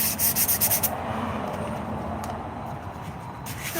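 Sanding begins with a quick run of rhythmic back-and-forth strokes, then settles into a steady, close, gritty rasp that continues with small surges, with no talking.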